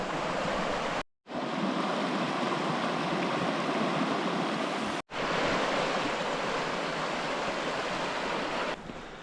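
A mountain creek near Jumbo Mountain rushes in a steady, loud, close wash of flowing water, broken by two brief moments of silence.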